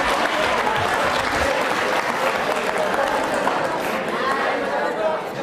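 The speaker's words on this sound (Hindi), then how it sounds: "जोरदार तालियां बजाई, जोरदार तालियां।" Loud, sustained applause from a studio audience at a televised quiz program, steady dense clapping throughout with faint crowd chatter underneath.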